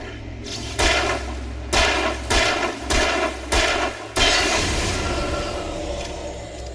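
Five sharp, loud gunshots from the video game Alan Wake crack out at a steady, evenly spaced rhythm, the last one followed by a long, hissing reverberant tail.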